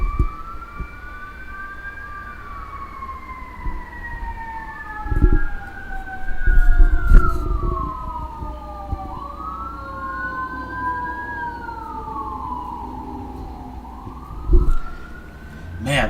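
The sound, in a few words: fire truck and ambulance sirens going by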